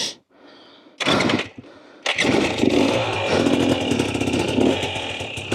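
A 2024 Husqvarna TE250 TBI two-stroke dirt bike fitted with an FMF Turbine Core 2.1 silencer lugs in first gear off-road: a few sharp bursts, then a continuous loud, raspy engine note that pulses unevenly at low revs.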